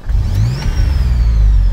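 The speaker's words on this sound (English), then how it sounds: "So to start the car, a simple turn of the key, and just feed the fuel by slowly depressing the accelerator down to get us started." DeLorean car engine just after starting, running steadily and revving with a low, loud rumble and a rising whine as the accelerator is pressed, close and continuous.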